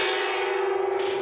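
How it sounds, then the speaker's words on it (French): A gong struck in a trading room to celebrate record monthly volumes rings out in a sustained, shimmering metallic tone that carries steadily and close with slight wavering, no voices over it. "c'est le gong, c'est pour fêter les volumes records du mois"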